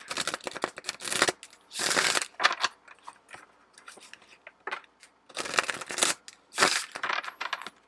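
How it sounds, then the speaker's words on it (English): A tarot card deck is shuffled in quick bursts, with crisp riffling and slapping of cards coming in several separate close rustling clusters and short pauses between them. "I do want to shuffle another card out from this deck for you guys."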